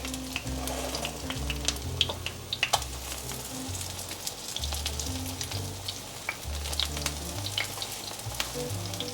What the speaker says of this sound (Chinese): 可以翻面了，煎成金黄色